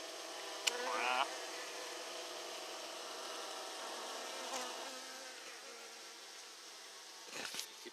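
A swarm of honey bees being rescued from a tree trunk beside the Moselle hums steadily, a dense close buzz throughout with a few louder individual passes and soft handling noises near the end.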